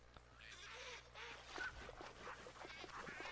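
Ducks quack in the duck-hunting game theHunter Classic, a few short calls scattered over steady outdoor ambience with a hunting dog nearby, moderately loud throughout.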